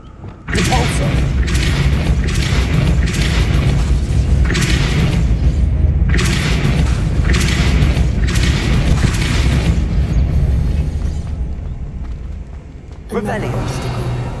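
Depulso spell cast in Hogwarts Legacy, a series of loud booming thuds and rumbling bursts in quick succession, then a short pause before another blast.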